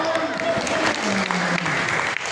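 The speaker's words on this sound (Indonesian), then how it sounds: "Tepuk tangan dong" Loud, sustained applause from an audience, dense clapping throughout with a voice talking over it.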